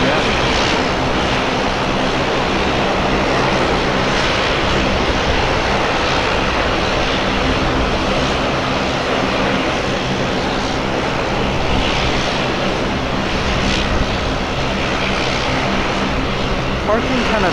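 Q400 turboprop airliner taking off at Portland airport, a steady broadband engine and propeller roar heard from a distance, continuous throughout with faint talking underneath.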